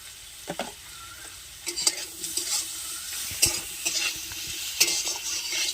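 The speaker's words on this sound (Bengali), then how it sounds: "এবারে এটা ভালোভাবে কষে নিতে হবে।" Raw jackfruit with turmeric and salt sautéing in a pan, with steady sizzling frying broken by repeated scraping stirs of a utensil, close up and with no talk.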